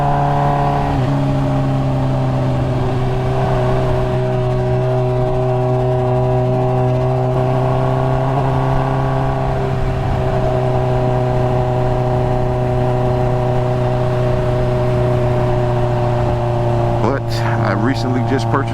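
Motorcycle engine while riding, a loud steady droning hum with stable harmonics held for the whole stretch, wind rush underneath and a brief change near the end.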